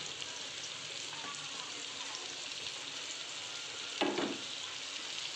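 Onion and chilli fry in a pan for chilli paneer, a soft, even hiss of sizzling with a brief clatter near the end.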